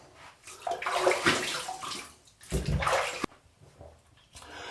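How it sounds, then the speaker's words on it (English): Water splashing while shave butter is rinsed off hands and face, two bursts of close, loud sloshing and cupped splashes separated by brief quiet drips. "I am going to end up rinsing this off my hands because I do want to rinse my face"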